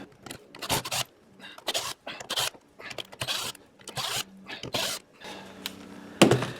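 Torx bolts being backed out of a transmission cover on a Toro Personal Pace self-propelled lawnmower: a run of short, close ratcheting and scraping bursts with brief gaps, ending in a sharp metallic clink.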